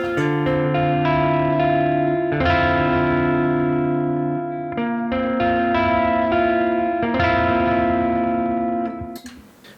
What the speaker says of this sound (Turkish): Deluxe Reverb amfisi Clean.